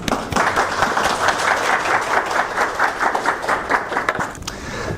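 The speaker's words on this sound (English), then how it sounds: "Let's give a warm applause to Professor Boyer." Audience applause for a keynote speaker at an academic workshop, a dense, steady wash of many hands clapping close by for the full length, with no talk over it.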